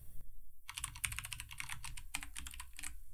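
A brand name typed on a computer keyboard: a brief pause, then a rapid, uneven run of close, crisp key clicks continuing for about two and a half seconds, no speech.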